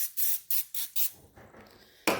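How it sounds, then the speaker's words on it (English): Cooking spray is sprayed onto a griddle in four quick close hissing bursts with a steady rhythm, followed by a quiet pause and one more short spray at the end. "Cooking spray."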